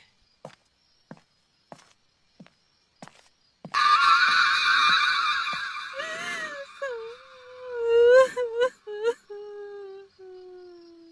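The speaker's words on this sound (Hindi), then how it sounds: "कहीं पास से रोने की आवाज आई," Slow footsteps give way to an eerie sustained drone and then a drawn-out, broken wailing cry, a crying sound effect in a Hindi jungle horror story about a ghost, loud and close.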